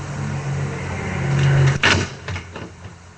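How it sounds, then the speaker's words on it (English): A door or cupboard shuts with a single sharp thump near the middle, after a low hum and rumbling background. A few quieter knocks follow. "that sounded like a door closing or a cupboard closing again"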